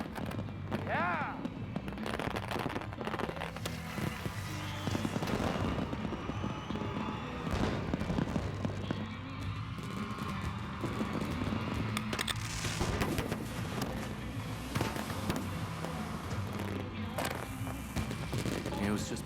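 A pyrotechnic fireworks show with rapid bursts and sharp cracks in dense volleys, fairly distant and continuous, with people talking underneath.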